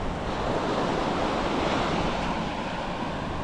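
Sea waves washing onto a Turkish shore in winter, a steady broad roar of surf with some wind noise, continuous and fairly loud, no voices.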